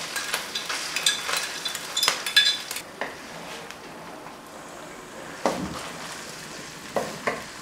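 Ginger, garlic and onion paste frying in a pan, a soft sizzle with bursts of stirring and clinks of a utensil against metal in the first few seconds, then quieter frying with occasional scrapes.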